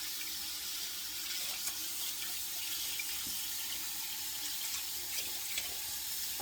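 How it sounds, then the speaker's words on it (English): Hands rinsed under a running kitchen tap, a steady close stream of water hissing without a break and heard alone with no talk. "let me just rinse my hands off"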